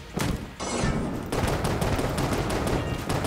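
Rapid gunfire from the Phoenix pistol in Enter the Gungeon runs continuously for several seconds. It is a dense, loud stream of game shots with no talking over it.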